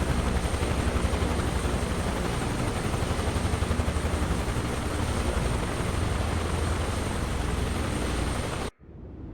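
Helicopter rotor and turbine from Microsoft Flight Simulator 2024, a loud, steady chopping drone with dense rhythmic beating that runs unbroken for most of the stretch before cutting out abruptly near the end.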